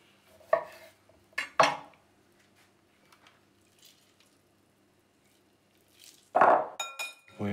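Utensils clink against a bowl as thinly sliced onion for sea bass ceviche is tossed with lemon and lime juice, leaving a few separate bright clinks with quiet gaps and a wet squish, close by.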